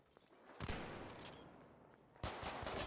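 Two bursts of rapid gunfire from Battlefield V, one early and one near the end, crackle in dense fusillades with a lower rumble between them.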